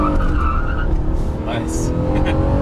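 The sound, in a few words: 2014 Honda Accord V6 accelerating at full throttle in sport mode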